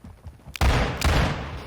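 Shotgun blasts in the video game Modern Warfare 2 come as two loud, booming shots a short way apart, each with a sharp crack and a rumbling tail. Faint game sounds are heard before the first shot.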